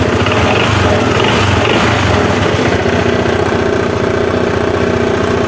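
A Honda PCX 160 scooter's engine idling just after starting, a loud, steady, close-up mechanical putter running evenly throughout without any voices.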